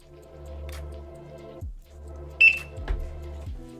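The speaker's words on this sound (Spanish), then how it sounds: "Ahí tenemos el pitido y las luces parpadeando" A Conga 8290 Immortal robot vacuum gives a single short, high electronic beep when its home button is held for Wi-Fi pairing, rising over a low electrical hum and soft clicks.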